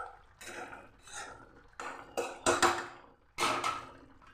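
Lid set on a pan of silver carp cooking on the stove, a few soft metallic clanks and scrapes of pot and lid, close but fairly quiet, in irregular bursts.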